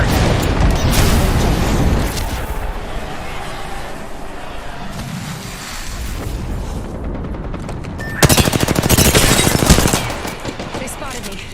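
Repeated gunfire in an online shooter, with bursts of rapid automatic shots and booming impacts. The shots are loud and close, clustering near the end of the clip.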